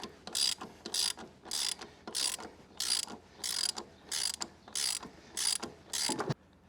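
A ratchet wrench runs in the rear axle bolt on a 2007-and-up Harley-Davidson Sportster, giving about a dozen evenly spaced bursts of rapid metallic clicking, close up and loud, with no talking.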